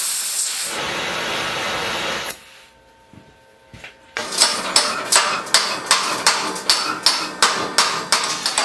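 An oxygen-acetylene torch cuts thick steel plate on a CNC table: a steady hiss that breaks off into near silence, then a run of regular sharp popping bursts, loud and close.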